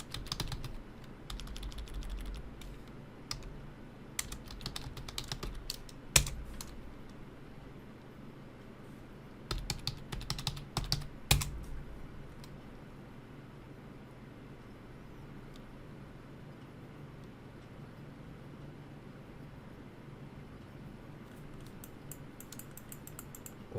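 Scattered bursts of soft computer keyboard typing as a password is entered while installing Kali Linux on VMware, with short clusters of keystrokes over a low background hum and long quiet gaps.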